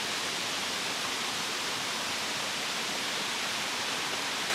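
A waterfall roars as a dense, steady broadband rush of falling water, constant and fairly loud without any variation.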